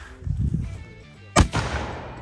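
A small cannon fires once outdoors, a single sharp loud boom in the middle, set among low handling noises and faint rustling.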